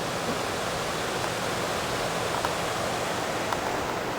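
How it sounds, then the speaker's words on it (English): Steady, dense rush of a creek flowing below a dam near the Salmon River, a continuous broadband roar of running water filling the scene from start to finish with no pauses. "this creek that you can hear"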